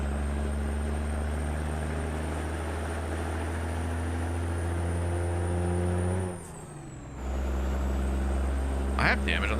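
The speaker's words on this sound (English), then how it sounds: "Let me get inside the truck. It sounds better." Heavy truck engine heard from inside the cab in a PC truck-driving game, a loud steady low drone with a brief dip midway as if shifting gear, followed by a short air-brake hiss.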